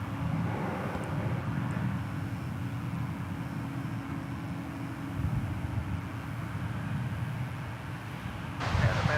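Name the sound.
Airbus A220 airliner at DFW Airport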